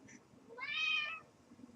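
A cat gives a single drawn-out meow, close and clear, lasting about half a second, over a quiet room background.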